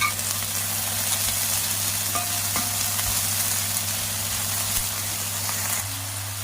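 Close, steady frying sizzle with stirring scrapes in a pan, a constant hiss over a low background hum, no talking.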